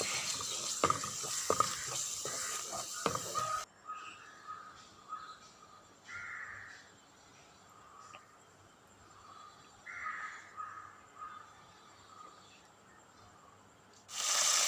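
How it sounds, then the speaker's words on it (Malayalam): A spoon stirs mild, barely sour curd, about three teaspoons, into a tomato and onion masala in a pan. A few scraping strokes come first, then a softer steady sizzle with brief stirring scrapes, and crow calls sound in the background. "3 ടീസ്പൂൺ ചേർത്ത് കൊടുത്തിട്ട് നല്ലോണം ഒന്ന് ഇളക്കി കൊടുക്കണം"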